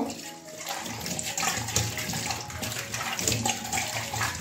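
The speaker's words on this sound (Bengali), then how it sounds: "এই যে এবারে ধোবো, একটা ঝুড়ির মধ্যে ঢেলে নিচ্ছি।" Apple snails being washed under running water in a basket, a continuous splashing rush with shifting gurgles and sloshing, moderately loud and close, no voices.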